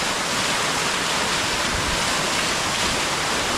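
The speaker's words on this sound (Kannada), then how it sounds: "ಒಳ್ಳೆ ಕಲ್ಲೆ ಐತೆ, ನೀರು ಬೀಳ್ತಾ ಇದೆ ಅದ್ರ ಮೇಲೆ." A forest waterfall pouring onto rocks, a loud, steady, close broadband roar of rushing water with no pauses.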